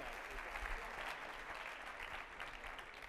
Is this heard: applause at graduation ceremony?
yes